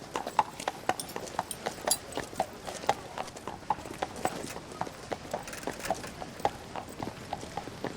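Hooves of Black, the young horse of King Christian X, clip-clop at a steady walking rhythm, each crisp strike distinct and moderately close, with faint background sound beneath.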